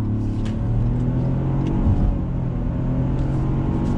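Heard from inside the cabin, the engine of a 2020 Ford Escape pulls under throttle with a steady, moderately loud low drone that swells briefly midway, with no talking.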